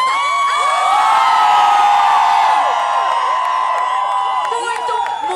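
A large crowd at a street concert on Avenida Paulista in São Paulo screams, shouts and whoops together in a loud, sustained roar with shrill high cries rising above it.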